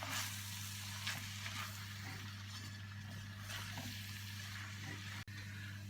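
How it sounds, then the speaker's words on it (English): Beef pieces coated in plain flour being stirred in a pot, a steady close sizzle with scraping and shuffling of the meat, ending in a single sharp knock; no voices. "You're going to need to give this a good mix now. Get all that beef coated."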